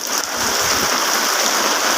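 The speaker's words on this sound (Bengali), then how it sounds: "সকাল ধরে বৃষ্টি হইতেছে।" Heavy rain pours down in Dhaka during flooding, a loud, dense, steady hiss of rainfall drumming on surfaces, continuous throughout with no voices.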